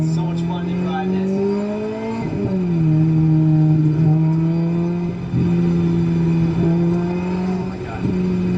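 A car drives through the streets of Beverly Hills, its engine droning steadily and rising in pitch as it accelerates, with a few gear-change dips, loud and close throughout.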